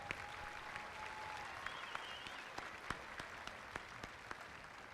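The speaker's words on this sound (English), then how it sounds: "deserved round of applause" Graduation audience at a high school ceremony applauds the coaches: a steady wash of moderate, fairly distant clapping with a few sharper individual claps standing out, continuing evenly throughout.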